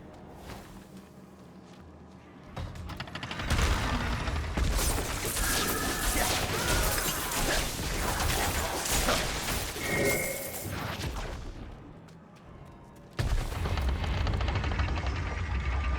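Repeated fiery blasts, crashes and whooshing bursts of Diablo 4 sorcerer combat, loud and dense for several seconds, easing briefly before another heavy burst of explosive game audio.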